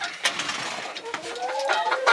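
Chickens clucking and fussing inside a dim coop at night, a continuous busy flock chatter with sharp squawks, close and fairly loud.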